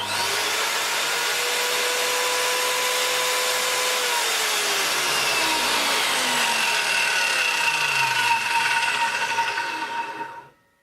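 A Hitachi circular saw spins at high speed with a bright, sustained whine, its motor pitch gliding downward partway through before the blade cuts off and the sound fades abruptly.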